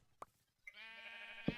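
A pixelated sheep bleats once in the Minecraft video game, a clear, wavering bleat holding for nearly a second, with brief soft game clicks before it and a sharp thump right after.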